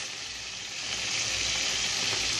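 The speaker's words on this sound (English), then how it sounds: "now it's been frying for about 20 minutes now" A steady, loud sizzle of chicken frying in hot oil and butter, a crackling hiss that swells slightly and then holds constant.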